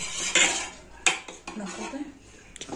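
A thickening melted sugar mixture is stirred in a pot for sakhar ghati. Spoon and pot give a few distinct clanks and scrapes, close and clear.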